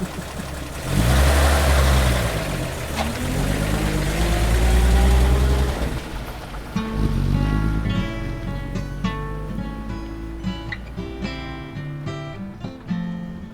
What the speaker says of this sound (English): A vintage car, a sunny afternoon, and the open road ahead.